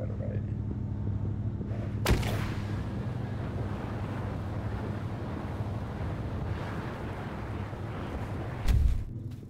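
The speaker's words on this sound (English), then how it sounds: "Getting shot out of a cannon is the way that you spawn." In the Totally Accurate Battlegrounds video game, a player is launched from a cannon: a sharp blast, then a steady rush of wind and airflow, with a second thump near the end.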